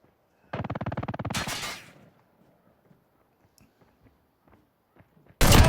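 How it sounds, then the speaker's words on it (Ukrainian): An SP-R 208 marksman rifle fires, a sharp loud blast with a short decaying tail, then quiet with faint rustling before another abrupt loud report at the end. "Один постріл, але потужний."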